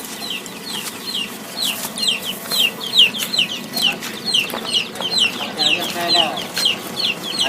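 Chickens clucking and calling steadily on a farm, a dense, close flock with repeated short clucks over a constant background murmur.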